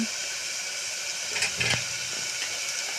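Chicken fries in oil over a high flame, producing a loud, continuous, steady sizzling hiss with a few small pops and stirring knocks.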